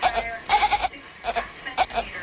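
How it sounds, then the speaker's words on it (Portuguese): A cat letting out goat-like screaming bleats, five or six short nasal cries in uneven bursts with brief gaps between them, fairly close and alone. "Este é um gato que grita como uma cabra."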